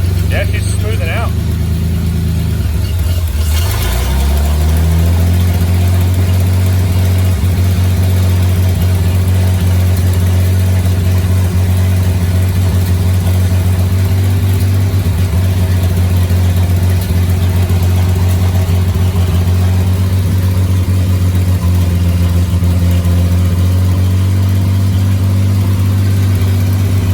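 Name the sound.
engine of a 1941 Plymouth barn find running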